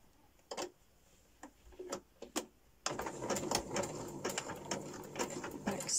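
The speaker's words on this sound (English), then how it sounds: "Stitch, zigzag to the end, back stitch, and stop." Sewing machine running a zigzag stitch down a trim base, starting with a few short stitch bursts and then settling into a steady, close whirring run with a rhythmic ticking needle.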